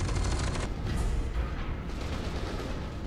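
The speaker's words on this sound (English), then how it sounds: "Who keeps shooting me?" Sustained gunfire aimed at the player in the shooter F.E.A.R. 2, a dense, continuous roar of shots and impacts filling the whole stretch, loud and close without pause.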